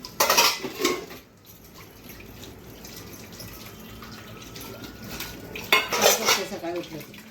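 Metal pots and utensils being washed and scrubbed at a sink, with clattering bursts at the start and again near the end, softer scraping and running water between.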